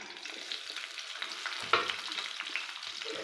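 Slit green chillies and onion frying in hot oil, a close crackling sizzle with bursts of spatter and a sharp pop midway, steady throughout with no talking.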